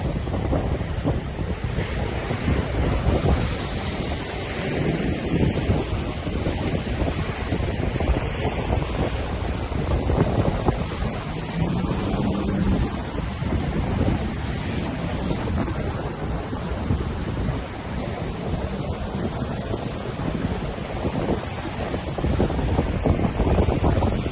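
Steady wind buffets the microphone at the Tian Beach viewpoint on Koh Larn, with waves and surf washing continuously underneath, loud and unbroken, no voices.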